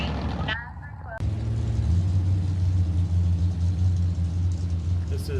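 A BMW and a Mustang Foxbody at a drag race, heard as a deep, steady engine rumble with a droning low tone after a brief gap near the start.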